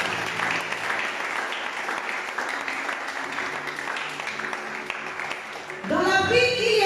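Church congregation applauding in praise during a service, sustained dense clapping from a crowd for several seconds, with a louder burst of cheering voices at the end.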